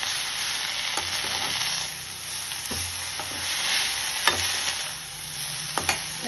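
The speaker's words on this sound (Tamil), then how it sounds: "முருங்கைக்கீரை லைட்டாக வதக்கிட்டேன்." Drumstick leaves (murungai keerai) sauté in a hot pan, a steady close sizzle broken by occasional scraping and clinking stirs of the spoon.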